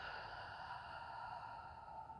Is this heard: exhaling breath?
yes